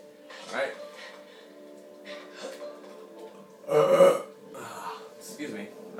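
A single throaty burp bursts out loudly mid-clip during Legend of Zelda: Skyward Sword gameplay, surrounded by short stretches of casual talk and faint game sounds.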